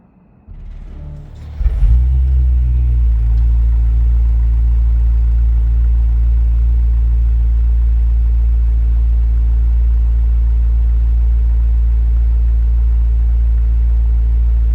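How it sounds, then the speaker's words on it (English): A BMW M5 V8 catches on a cold start with a brief crank and a loud flare, then settles into a steady, deep, rumbling high idle that holds evenly and close, with no talking. "I'll do a little cold start just for the sound."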